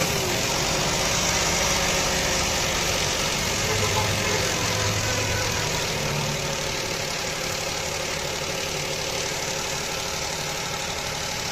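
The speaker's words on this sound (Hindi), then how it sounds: "स्टार्ट करो। हल्की रेस रख।" Car engine started and left idling with a suspected misfire, a steady close rumble running throughout with a faint uneven pulsing and no break.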